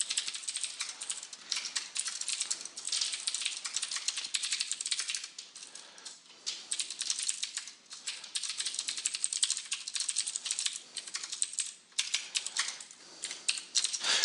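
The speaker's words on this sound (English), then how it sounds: "I am just typing in capital G, capital M to get Game Manager" Steady, rapid clatter of keys on a computer keyboard while writing code in Visual Studio, close and continuous with brief pauses, no talking.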